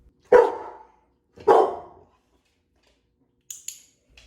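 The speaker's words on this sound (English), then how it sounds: "Remy is not happy about it" A dog barks twice, loud and close, about a second apart, followed after a pause by two quick sharp clicks from a training clicker.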